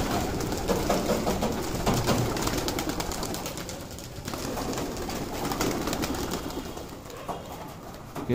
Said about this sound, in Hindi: कम से कम 50-60 कबूतर तो होंगे जी तू भाई, 50-60 कबूतर है, सारा भी उड़ा के दिखाऊंगा आपको भाई।